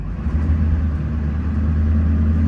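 A Duramax pickup truck's diesel engine runs steadily as the truck is moved, a loud, close, low rumbling drone with no talk over it.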